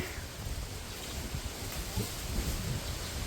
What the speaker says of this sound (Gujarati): બહુ જ પવન છે